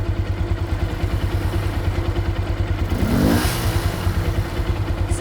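Motorcycle fitted with a 3D printed rear sprocket runs on a rear stand, its engine thumping in a fast steady pulse, loud and close, with a brief rise in revs midway and a rattling chain-like clatter.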